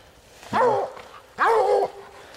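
Bluetick coonhounds on a raccoon hunt give two loud, drawn-out bawling barks close by, each about half a second long and separated by a short pause.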